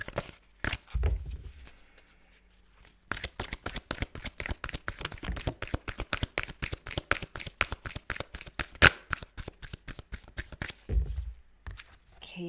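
Tarot cards being shuffled and drawn at close range: a fast, steady run of crisp riffling snaps lasting several seconds, framed by a few softer handling taps before and after.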